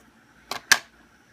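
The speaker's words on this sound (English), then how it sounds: "Then I'll use my scissors to cut." Two quick crisp snips of small scissors cut through a nail wrap, close and clear against near silence.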